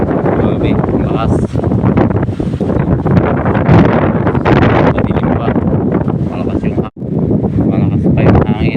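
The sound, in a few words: strong typhoon wind (Typhoon Uwan)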